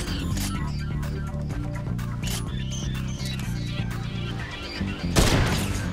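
A heavy sniper rifle in the Fortnite video game fires with a sharp, loud burst near the end, over steady game music and ambient in-game sound.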